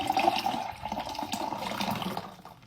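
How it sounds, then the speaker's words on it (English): Fever Tree premium club soda with Scottish sea salt is poured into a glass, a continuous close fizzing, splashing stream that runs steadily and tapers off at the end, with no talking. "I'm going to use a premium club soda, perfectly carbonated, with a touch of Scottish sea salt from Fever Tree"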